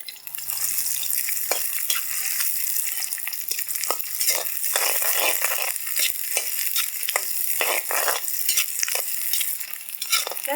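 Chopped onions sizzle and crackle loudly in hot oil, with intermittent scraping and stirring sounds throughout and no talking.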